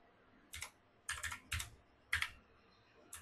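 Keys on a computer keyboard are tapped in short, quiet bursts of a few strokes each, close by and spaced about half a second apart, with no talking.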